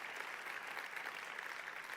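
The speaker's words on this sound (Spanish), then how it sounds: "Vamos, si vas a aplaudir, hazlo con más ganas." Steady applause from a church congregation during a Spanish-language sermon, a dense, even wash of many hands clapping at moderate distance, continuous for the whole stretch with no voices over it.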